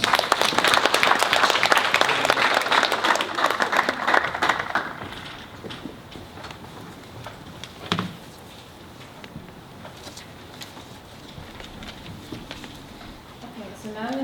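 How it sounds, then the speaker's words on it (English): Inductees at a 2021 National Honor Society senior ceremony clap for themselves, a dense burst of applause that fades over about five seconds into quieter room sound with scattered claps. "Big round of applause for yourselves."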